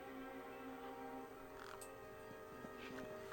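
Crows cawing around a truck in the video game Beyond a Steel Sky, several harsh caws scattered over a steady tonal game ambience, fairly faint and without speech.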